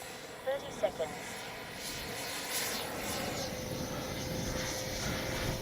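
A Freewing F9F-8 Cougar 80mm radio-controlled jet makes a slow pass into the wind with flaps and gear down, its ducted-fan whine a steady rushing drone under wind noise, preceded by a few brief clicks.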